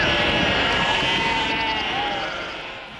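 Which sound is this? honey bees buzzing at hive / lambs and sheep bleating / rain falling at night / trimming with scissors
lambs and sheep bleating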